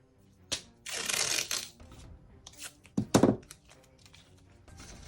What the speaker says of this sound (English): Now we're gonna add painter's tape to the top.